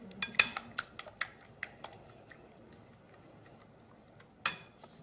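A tasting spoon clinks against a pot while Cajun sauce cooks: a scatter of sharp, close metallic taps, several in quick succession early, then sparse, with one louder clink near the end and no speech.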